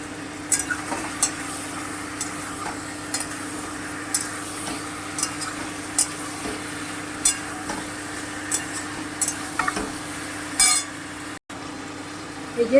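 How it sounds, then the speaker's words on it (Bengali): Bay leaf, dried chili and chicken frying in a pan, with a steady low sizzle under repeated scraping stirs that tick at irregular intervals, heard up close with no talk. "তেজপাতা শুকনো লঙ্কাটা দিয়ে দিলাম"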